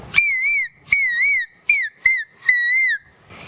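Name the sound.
child imitating koel bird call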